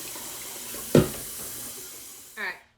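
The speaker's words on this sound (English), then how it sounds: "I'm going to go ahead and fill it up with water." Tap water runs into a pot of chopped brisket for birria, a steady soft hiss with a brief knock partway through and a short voice near the end.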